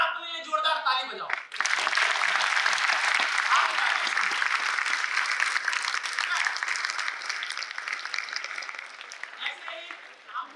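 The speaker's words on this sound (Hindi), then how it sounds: "एक बार अपने लिए जोरदार ताली बजाओ।" A university audience breaks into loud, sustained applause after a brief spoken line, a thick wall of clapping that gradually tapers off over several seconds.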